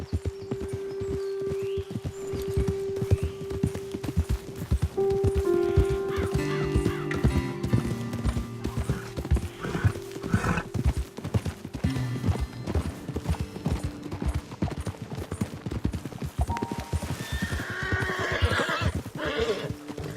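Steady clip-clop of horse hooves walking in the video game Red Dead Redemption 2, with a horse neighing and snorting partway through; close and continuous, with a faint voice briefly heard.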